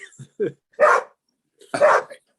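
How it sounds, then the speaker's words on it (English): Two sharp dog barks ring out close by, spaced about a second apart, with a few softer yips before them. "With apologies for the dog barking."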